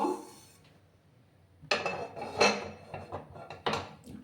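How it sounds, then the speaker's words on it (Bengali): A kadai (wok) set down on a lit gas stove gives a few close metallic clunks and scrapes, followed by a softer clatter near the end. "কড়াই আমি বসিয়ে দিলাম।"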